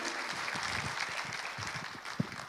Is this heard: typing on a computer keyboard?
no